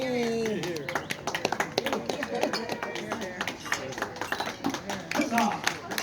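Guests at a wedding toast celebration clap together in a room, a dense run of sharp hand claps at moderate volume mixed with cheering voices and chatter.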